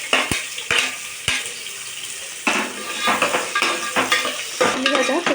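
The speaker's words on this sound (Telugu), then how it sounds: "ఇవైతే ఎర్రగైనాయి కాబట్టి ఇప్పుడు ఉల్లిగడ్డ వేసుకుంటున్నా" Onions tipped into hot oil with whole spices such as cinnamon, cloves and cardamom sizzle steadily in a pan for a country-chicken curry, with sharp clinks of a utensil against the pot and scraping stirs throughout.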